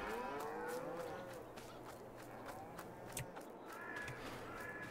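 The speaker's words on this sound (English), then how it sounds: "Hello, cows." Cows mooing on a farm in the Farming Simulator video game, several drawn-out moos overlapping across the whole stretch over a steady ambient bed, with occasional crow-like caws, fairly loud and free of talk.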